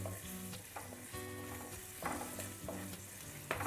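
Asafoetida and turmeric stirred into a hot pan for rasam, with a close, steady sizzle and repeated scraping strokes of the spoon against the pan, no voices.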